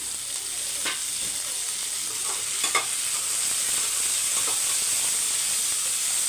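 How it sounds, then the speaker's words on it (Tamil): Onions sauté in a pan with a continuous loud sizzle and steamy hiss, broken by a few close scraping strokes of a stirring spoon, with no voices. "இப்போ இது ஒரு பக்கம் வதங்கட்டும்"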